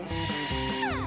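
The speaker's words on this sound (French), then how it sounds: "Prends la perceuse." A power drill driving screws to fit hinges and shutters onto a small portable folding house, one continuous whirring run with a rising pitch sweep near the end, close and loud with no talk.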